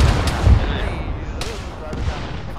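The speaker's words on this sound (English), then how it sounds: "There's some kind of HMG firing from pretty far off to the north." Distant heavy machine gun bursts thud from far off to the north in a military shooter, a few muffled booms and cracks over low ambient rumble.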